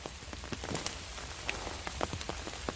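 Rain falls steadily in a forest during an October outing to hunt mushrooms, a dense soft patter with scattered louder drops tapping nearby surfaces, and no voices.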